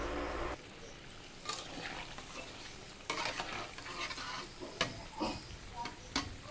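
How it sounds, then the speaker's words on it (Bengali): Palm fritters (taler bora) deep-frying in oil over low heat, a soft continuous sizzle broken by clicks and scrapes of a spatula, close and fairly quiet, with no talking. "এবার এক এক করে সমস্ত তালের বড়াগুলো আমি ছেড়ে দিচ্ছি, হালকা আঁচে মচমচে করে আমি ভেজে নিচ্ছি।"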